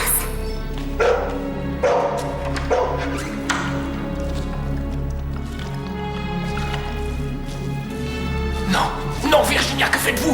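A puppy barks and yips in short, irregular bursts a few times over a low steady hum and background noise.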